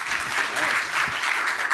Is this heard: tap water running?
no